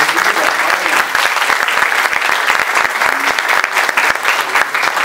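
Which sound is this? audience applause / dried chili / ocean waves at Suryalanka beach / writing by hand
audience applause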